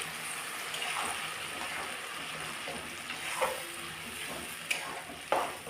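Spinach and green chili paste goes into a pan of softened frying tomatoes, producing a close, steady sizzle with occasional sharper pops and spatula scrapes, no talking.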